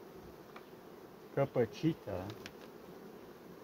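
Honeybees buzzing at an open hive during honey harvest, a faint steady drone with a few brief louder passes close by, under a short spoken word.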